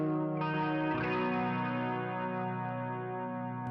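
Clean electric guitar with an 80s-style tone played through a Fractal FM3 modeler with pedals, sustained chords ringing out with a shimmering chorus-like sheen, steady and upfront with no talking.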